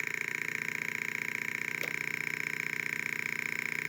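Resonance speaker producing an electronic motorcycle engine sound, a steady, fast popping putter that holds constant and fairly quiet throughout, with a buzzy tonal drone on top.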